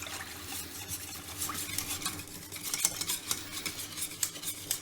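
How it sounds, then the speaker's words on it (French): Béchamel sauce seasoned with pepper and nutmeg thickens in a pan while a utensil stirs it, giving soft, repeated scraping strokes against the pan with a faint sizzle. No one speaks. "Et là, on remue et on laisse cuire 2-3 minutes."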